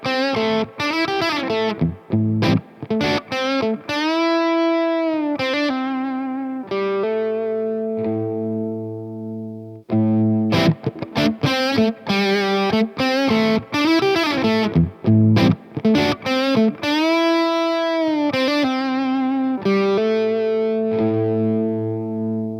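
Electric guitar loop played through a Crazy Tube Circuits Venus tube pedal, sustained distorted chords and melodic lines ringing loud and steady for over twenty seconds, with no talking.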